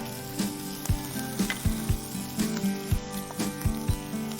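Chopped onion sizzles loudly in hot oil in a kitchen pan, a continuous frying hiss punctuated by repeated clanks and scrapes of stirring in an uneven rhythm.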